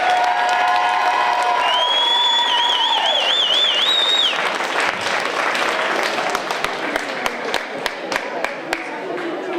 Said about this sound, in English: Let's give all the Hunks a huge round of applause.